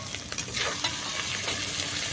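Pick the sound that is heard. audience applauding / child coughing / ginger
ginger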